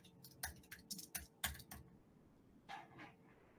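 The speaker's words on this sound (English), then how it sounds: "I'm just clicking on the OK button." Sharp mouse clicks in a quiet room, with a cluster of about eight quick clicks over the first two seconds and a couple more near the end. The clicks are crisp and moderately close, and no one speaks.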